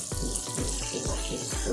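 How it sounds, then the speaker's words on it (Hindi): Two cubes of butter melt in a small tadka frying pan with a soft, even sizzle, punctuated by rhythmic low thumps roughly every half second, fairly quiet throughout. "यहाँ पे मैंने एक तड़का फ्राई पैन ले लिया है, इसमें मैंने 2 क्यूब बटर के डाल दिए हैं और इसको अच्छे से मेल्ट कर लेंगे।"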